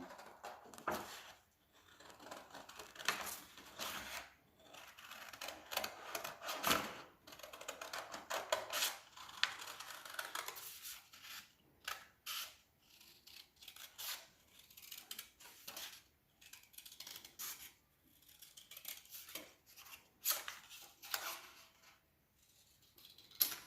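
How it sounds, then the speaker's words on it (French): Scissors cut a drawn circle out of paper, giving a quiet, close run of irregular snips and crisp paper rustles that come in uneven bursts with short pauses between them. "je prends les ciseaux et je découpe le rond que j'ai dessiné"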